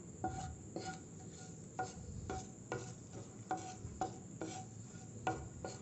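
Bay leaf and a little chilli tempering in hot oil are stirred in a pan, with soft scraping strokes repeating about every half second over a steady low sizzle, close and fairly quiet.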